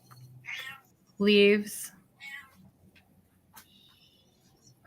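Pet cats meow at feeding time, one loud clear meow standing out among softer mews, with someone talking briefly around them in a quiet indoor room.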